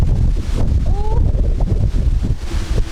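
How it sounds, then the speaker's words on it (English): Strong gusting wind buffets the microphone on a cyclist's route in France while crossing a bridge, a loud rumbling roar with brief flutters and a faint tonal whistle. "I don't even know if you can hear me right now, it's so windy."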